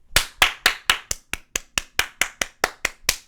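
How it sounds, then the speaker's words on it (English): About a dozen crisp, evenly spaced hand claps from one person in a steady rhythm, close and fairly quiet with no talk over them. "clap it up for that"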